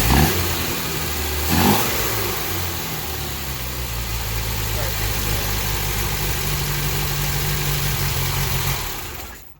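A 1972 Fiat 850 Spider engine runs close by, blipping up in revs at the start before settling into a steady, rumbling idle that continues until it cuts off at the end.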